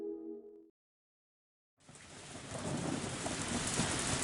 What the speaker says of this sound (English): Just then, there was thunder in the distance, and a heavy rain started pouring down.